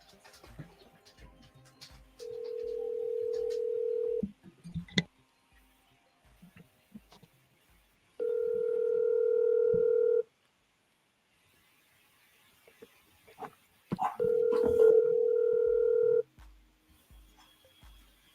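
A telephone call being placed: steady dial-tone-like tones and bursts of keypad dialing beeps, three separate sustained tone stretches with quiet gaps between, near and clear with no talking.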